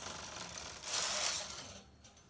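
A knitting machine carriage slides across the needle bed in one smooth pass, a close mechanical rushing hiss with faint clicking that swells midway and then stops, no talk.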